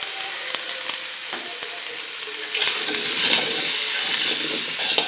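Turnip and potato pieces sauté with salt and turmeric in a Bengali pan, giving a steady hiss with scattered scraping clicks that grows louder and fuller halfway through.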